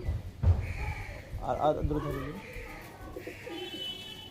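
Pigeons coo softly in a loft of Naptha pigeons with black, green and ghee-coloured eyes, the low murmuring calls coming and going beneath someone talking nearby.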